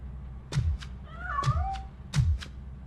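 A cat meows three times in the video game RoboCop: Rogue City, the middle call a longer wavering yowl, fairly close and clear with soft thumps underneath and no talking.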